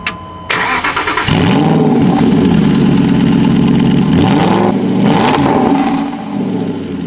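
An Aston Martin V8 Vantage N420 with a reworked valved exhaust starts up close by, then settles into a loud, steady rumbling idle with a brief blip of revs near the end.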